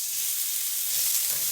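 Ground beef sizzles in a skillet on medium heat, giving a bright, continuous hiss close by. The frying runs without pause through the short moment, with no voices.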